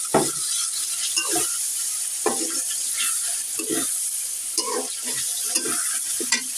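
Beef with cinnamon, cardamom and tripe sizzles in a pan while a utensil stirs it, a steady close frying hiss broken by repeated scraping strokes.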